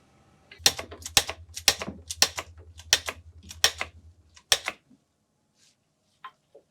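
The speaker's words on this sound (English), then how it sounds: "To the heel nailer." Heel nailer machine driving nails into a boot heel, about a dozen sharp, loud mechanical clacks in quick irregular succession over a low motor hum, then a few faint ticks after the machine stops.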